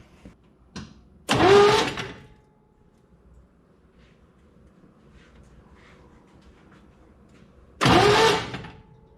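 The engine of a 1958 Willys Wagoneer cranks in two short bursts of whirring several seconds apart, with a quiet background hum in between.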